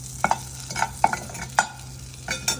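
Cumin seeds frying in butter in a kadai, with a soft sizzle under a few sharp spoon scrapes and taps against the pan at an irregular rhythm.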